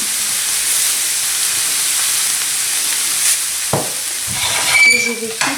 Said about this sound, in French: je vais continuer à écraser mes pommes de terre en les faisant revenir dans ce mélange